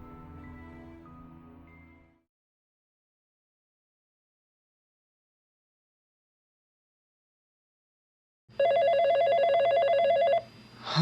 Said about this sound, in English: Damn phone.